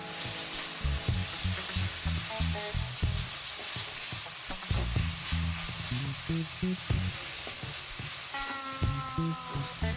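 Soy sauce noodles with vegetables, Hong Kong style, stir-fry in a hot pan with a steady loud sizzle, punctuated by repeated clanks and scrapes of tossing and stirring.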